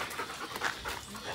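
A dog pants close by in quick, rhythmic breaths, each puff distinct, while being taken down to a river.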